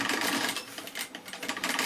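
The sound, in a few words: sewing machine stitching fish backpack fabric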